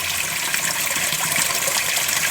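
Water from a spring at Bealtaine Cottage flows steadily toward two dug ponds and a small stream, a close, continuous rushing gush with no break.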